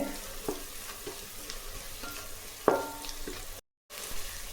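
Rice, raw or parboiled, being sautéed in a pan gives a low, steady frying crackle with soft scraping stir strokes and one sharper clatter midway, followed by a brief gap of silence.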